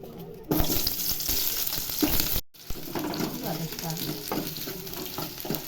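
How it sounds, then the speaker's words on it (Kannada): Onion fries in about a tablespoon of oil with cinnamon, cloves and coriander seeds, giving a loud, close, continuous sizzle with stirring clatter and a brief cut in the middle, no talk heard. "ಈರುಳ್ಳಿ ಮತ್ತು ಚಕ್ಕೆ, ಲವಂಗ, ಹಾಗೆ ಧನಿಯಾಕಾಳು ಇದಿಷ್ಟು ಸ್ವಲ್ಪ ಫ್ರೈ ಮಾಡ್ಕೊಳ್ಳೋಣ ಎಣ್ಣೆಯಲ್ಲಿ"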